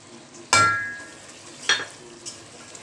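Ginger and garlic frying in a pan with added ground spices for Bombay biryani, giving two sharp sizzling bursts as ingredients hit the hot oil, the first louder, then a faint third hiss, each fading quickly into quiet.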